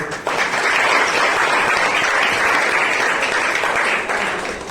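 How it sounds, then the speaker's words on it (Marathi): Students at a school science exhibition break into loud, sustained applause, a dense wash of clapping held steady for several seconds before easing slightly at the end. "आपण सगळेजण पहिल्यांदा तुमच्या सर्वांसाठी टाळ्या वाजवूया"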